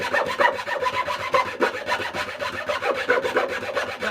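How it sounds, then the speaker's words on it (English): Steady rhythmic rasping of sandpaper on wood, repeated back-and-forth strokes, close and fairly loud, with no talking. "what you can hear is Richard sanding"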